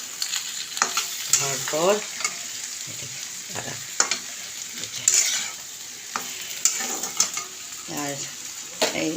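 Cabbage and vegetables sizzle in a pan under repeated close stirring and scraping of a utensil against the metal, with a voice speaking briefly now and then.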